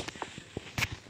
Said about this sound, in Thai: เสียงเหมือนคนเดินเลย